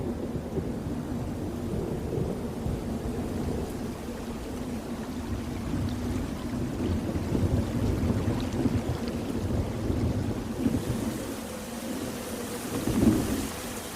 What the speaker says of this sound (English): we are both getting soaked in the rain